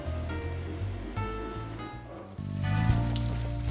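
Steady rain falling in the video game Unavowed, a continuous hiss and patter that carries on throughout and swells slightly louder toward the end, with a low ambient hum underneath.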